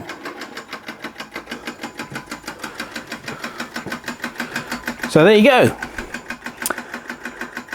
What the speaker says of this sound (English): The Hoge electric steamless engine, model number 355, now complete with its little cover which goes over the contact breaker, and running superbly.